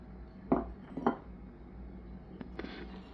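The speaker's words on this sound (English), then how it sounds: "I'm going to mix it with a spoon now." Sourdough English muffin dough with flour mixed by spoon in a bowl, a few faint clinks and scrapes spaced apart in a quiet room.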